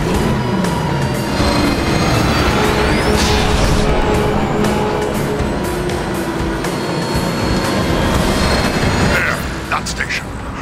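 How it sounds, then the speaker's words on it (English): A train rushing past in the video game Transformers: War for Cybertron, a loud continuous roaring rumble with metallic whines and whooshes, heard under voices. "Don't get hit by the train, you fool!"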